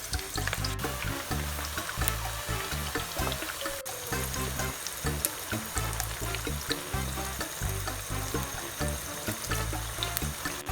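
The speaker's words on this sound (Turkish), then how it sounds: "Patlıcanlarımızı kızartıyoruz." Eggplant slices frying in hot oil for islim kebab, a steady loud crackling sizzle that continues throughout, close up with no talking.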